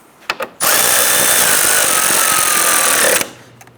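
A power drill runs steadily for about two and a half seconds, loud and close, driving bolts into the front bumper brackets of a 2011-2019 Ford Explorer, with a couple of brief clicks just before.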